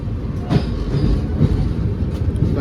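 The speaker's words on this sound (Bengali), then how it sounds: "এখন আমাদের ট্রেন এই বারাসনাথ স্টেশন ক্রস করছে" Inside a Rajdhani Express running from Howrah to New Delhi at night in heavy rain, a steady rumble of the moving train carries faint clattering wheel beats as it passes a station.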